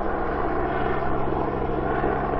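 A medical air ambulance helicopter passes overhead above a city street on a spring evening, its engine and rotor making a steady, moderately loud drone with no voices.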